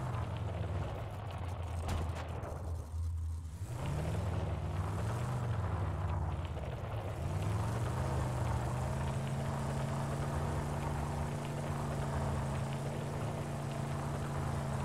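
A car driving in the Ring of Elysium video game: a steady engine drone that rises and falls in pitch as the throttle eases and picks up, continuous and fairly close, with no talk over it.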